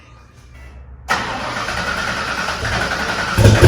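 A Ford Foxbody Mustang engine cranks briefly, then fires and catches, settling into a rough, loud running note with a final surge of revs.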